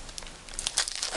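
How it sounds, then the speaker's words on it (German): Thin plastic shrink wrap crinkles and tears in short, close bursts as it is peeled carefully off a limited-edition Sword Art Online II anime Blu-ray box. "Ich mache jetzt erstmal hier vorsichtig die Folie weg, damit ich das Ganze auspacken kann."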